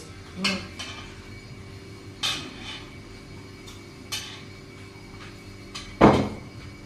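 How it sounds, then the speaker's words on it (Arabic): A spoon clinks and knocks against a cooking pot as sauce is stirred into rice, four or five sharp, separate strikes spread over several seconds with soft scraping between them. It is close and moderately loud, and no one speaks. "يحرك حتى كيتخلط داك لاصوص مع الرز"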